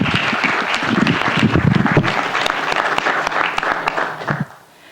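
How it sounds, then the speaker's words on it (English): Applause at a city council meeting, a loud burst of clapping from the audience close by for a few seconds, then tapering off and stopping abruptly near the end. "maybe we should just give her a round of applause"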